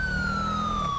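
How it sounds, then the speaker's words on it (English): A police car siren wails in GTA 5, with a steady sweeping tone loud and close over a low vehicle rumble. "Put my sirens on and respond to high grade."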